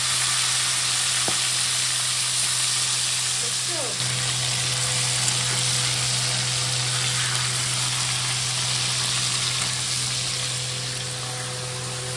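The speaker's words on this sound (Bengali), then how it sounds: "এই যে মাছের মাথাগুলো এখন ভাজবো।" Hilsa fish heads fry in hot oil seasoned with turmeric, giving a steady, loud, continuous sizzle that runs unbroken from start to finish, with a brief stirring scrape near the start.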